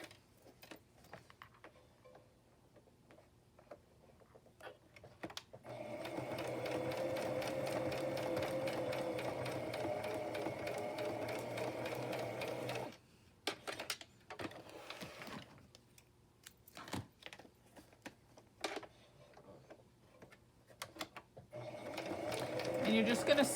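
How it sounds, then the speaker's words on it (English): An electric sewing machine stitches along the torn edges of paper ephemera, a fast steady mechanical run of about seven seconds, with handling clicks and quiet speech before and after. "you're just going to sew and follow the torn edges and gather them back together."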